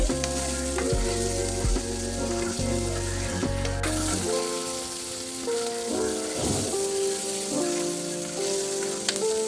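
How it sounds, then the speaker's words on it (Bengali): Small pieces of fish frying in a pan for a noodle dish: a dense, constant sizzle close by, with clinks and shifting tones layered over it and no voices. "যে মাছের পিসটা ছোট ছোট করে কেটে রেখেছিলাম সেটা দিয়ে দিচ্ছি ভালোভাবে ভেজে নেব মাছটাকে"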